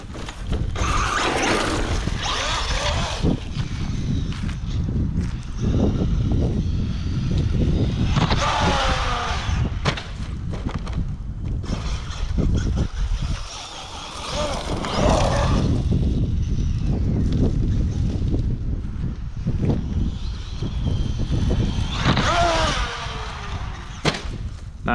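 A Traxxas Maxx Slash RC car fitted with a new motor drives outdoors, cornering hard. Loud, gritty motor whine surges and drops in repeated throttle bursts over rough crunching for the whole stretch, with no talk.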